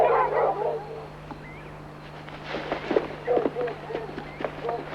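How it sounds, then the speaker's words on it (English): Dogs bark repeatedly at an approaching stranger on a farm, a cluster of sharp barks and yips at moderate distance mixed with whimpers over a steady low hum. "Dogs don't bark like that unless it's a stranger."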